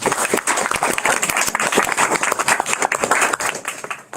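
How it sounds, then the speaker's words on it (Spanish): Audience clapping at a literary reading event, a few seconds of moderately loud, uneven applause from a small crowd. "nos vamos entonces con un aplauso a todas"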